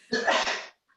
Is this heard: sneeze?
yes